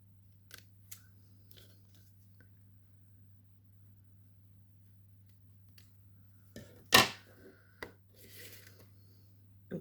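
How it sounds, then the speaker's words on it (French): Scissors snip through excess lace during a craft project, a few sharp cuts scattered across a quiet background with a low steady hum, one louder snip standing out near the end. "On va découper l'excédent de dentelle."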